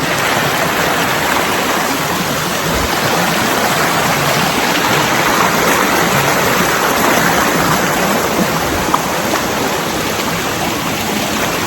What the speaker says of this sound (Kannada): ಈ ಮೇಲಿಂದ ನೀರು ಬರ್ತಾ ಇರ್ತದಾ